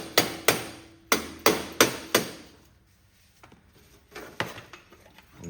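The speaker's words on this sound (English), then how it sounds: "Now I'm using a dead blow hammer." A dead blow hammer pounds a Cub Cadet riding mower's muffler during removal: six sharp, fairly close strikes in an uneven rhythm, then a pause and a few lighter taps.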